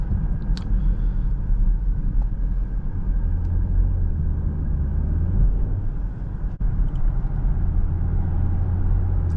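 2024 BMW X7 xDrive40i accelerating on a test drive, a steady low engine and road rumble from inside the cabin, continuous and fairly loud, with a couple of faint clicks and no talk.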